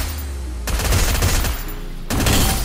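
Gunfire in a Free Fire match, with loud rapid bursts in two close volleys and a brief quieter gap between them, the shots sounding near and forceful.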